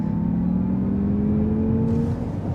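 A 2024 Acura ZDX A-Spec electric SUV pulls hard under acceleration, its rising electric motor whine and road rumble steady and close from inside the cabin, with no talking.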